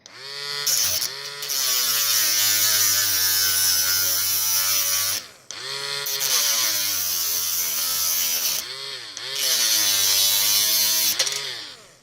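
USB-powered portable Dremel-style rotary tool cutting, a loud high-pitched whine running in three long steady stretches that dip and recover, with brief pauses between them.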